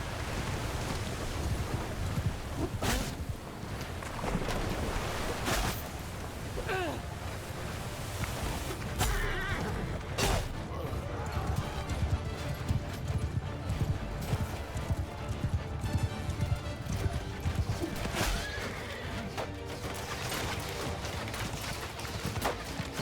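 Horses in the Mount & Blade II Bannerlord video game, a steady clatter of hooves through battle with occasional whinnies, loud and continuous over a noisy backdrop with sharp impacts.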